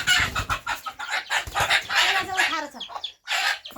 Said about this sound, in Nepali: कुखुराको खोर चाहिँ यहाँ छ।